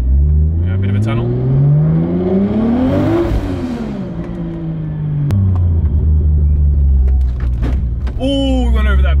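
Car fitted with new Shockworks suspension driving over a bump, a steady engine rumble rising and falling with a thump partway through, close and loud inside the cabin, with people talking.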